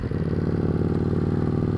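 An old motorcycle engine runs steadily at idle, a low throbbing rumble with rapid even firing pulses, close and constant throughout with no speech.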